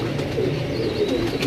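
A pigeon coos softly and repeatedly, a low rolling call held close over a steady background hum.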